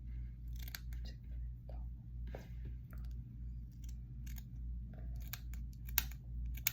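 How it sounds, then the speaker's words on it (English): Scissors trim Congo hair on a tarpon toad fly. A series of crisp, close snips arrives in an irregular rhythm over a low steady hum. "I'm gonna keep trimming until I'm happy with it"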